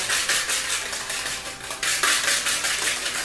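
Biscuit dough with melted butter being stirred in a bowl, a continuous close, rhythmic scraping and slapping of utensil against the bowl, repeating about every fraction of a second with no talk.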